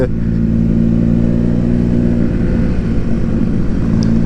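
A 2023 Honda ADV 160 scooter with a loud aftermarket muffler, throbbing and revving steadily close by on a ride in Tanay, Rizal, with a rising, rough exhaust drone throughout.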